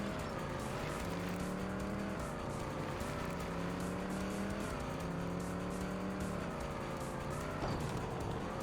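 An arcade racing truck in Hardcore TR on a New Mexico track: a loud, continuous synthetic engine drone whose pitch climbs and falls as the throttle eases off for corners, with a brief scrape near the end.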